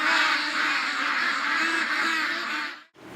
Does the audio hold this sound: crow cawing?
yes